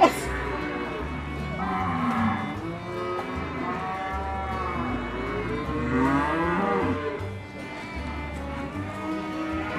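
A young Simmental bull lows repeatedly, several long drawn-out moos close by, with faint background noise between calls.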